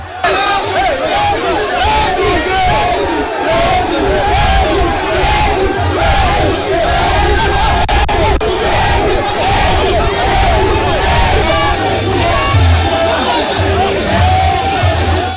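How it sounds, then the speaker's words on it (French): A compact, enthusiastic crowd lines the route from the grand mosque to greet the president of Guinea, filling the air with continuous loud cheering, whooping and chanting that never lets up. "Une foule compacte et enthousiaste l'a chaleureusement ovationné"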